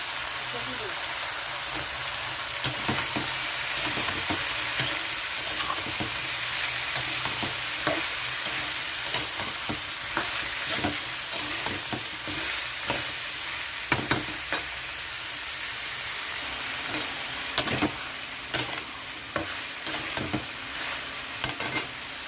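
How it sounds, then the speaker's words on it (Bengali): Ash gourd and potatoes frying in a pan, a constant loud sizzle with repeated scraping and stirring clatter from a spatula, while a person talks over it. "এখানে একটু আলুটাও ভাজা হয়ে গেছে, এখানে দিয়ে দিচ্ছি চাল কুমড়োটা দিয়ে দিলাম"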